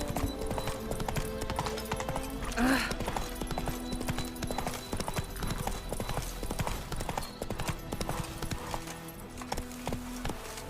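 Horse hooves clip-clop steadily in The Witcher 3, a close, rhythmic trot running through the whole stretch under a game soundtrack, with a brief whinny-like sound near the start and a voice speaking only briefly.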